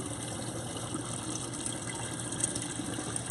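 Water flows steadily between tanks in an aquaponics system, making a continuous, even gushing and trickling wash with no pauses. The sound is fairly quiet and close, and no one speaks over it.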